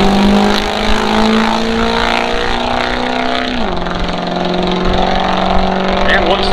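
A 2004 Ford F-250 diesel pickup launches hard off the line at a drag strip in Marengo, Illinois: a loud, steady engine roar with a droning tone that drops as the gear shifts partway through, with voices talking over it.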